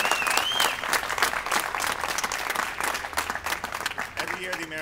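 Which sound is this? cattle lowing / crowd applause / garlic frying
crowd applause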